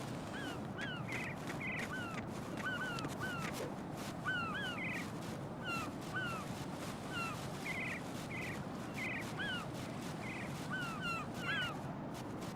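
Lots of seagulls crying around the Big Shell in Metal Gear Solid 2, with repeated overlapping calls spread across a steady wash of sea and wind ambience, moderately near and never stopping.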